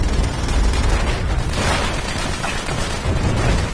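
Rocket blasts from the World War II shooter World at War, a dense, continuous barrage of booms and bursts at close range with no pauses, loud throughout the whole stretch.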